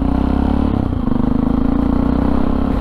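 A motorcycle riding toward Maassluis: a loud, close, continuous engine drone with steady pulsing and slight pitch shifts as it cruises, accompanied by wind and road clatter and no talking.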